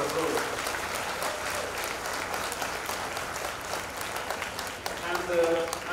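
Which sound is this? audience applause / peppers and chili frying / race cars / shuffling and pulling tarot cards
audience applause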